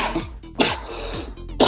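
Several sharp, loud coughs burst out close to the microphone in a talk-show setting, with short gaps of quieter room sound between them.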